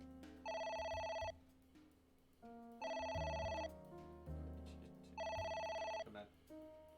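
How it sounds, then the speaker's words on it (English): Telephone bell ringing in three loud, regular bursts of about a second each, with a person talking in the gaps and underneath. "It won't stop ringing."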